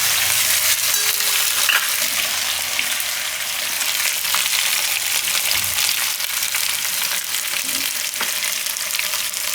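Gujarati fenugreek and sweet potato sabzi cooking in a pan, a steady close crackling sizzle that stays even and unbroken throughout with no voices.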